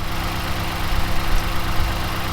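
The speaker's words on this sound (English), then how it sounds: "the engine's running" A 2012 Mazdaspeed 3 engine idles steadily after a Koyorad radiator install, a close, constant low rumble with an even hum and no talking.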